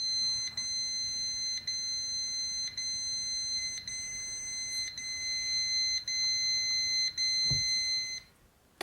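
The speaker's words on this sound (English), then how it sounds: "That was three failed attempts, and it goes into alarm." A Kwikset SmartCode commercial-grade lever lock sounds its alarm after three failed code attempts: a loud, high-pitched electronic tone pulsing in even bursts for about eight seconds before stopping.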